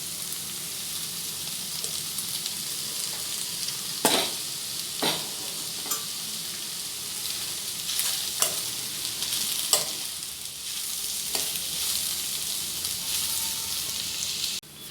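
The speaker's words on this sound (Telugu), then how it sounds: "ఇప్పుడు దీనిలోకి మనం పక్కన పెట్టుకున్న ఓట్స్ వేసేసుకుందాం" Oats being stirred into cooked vegetables in a pan make a steady close sizzle and frying hiss, with spoon scrapes and clacks every second or two and no voices.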